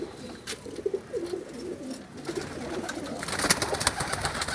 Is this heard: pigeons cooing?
yes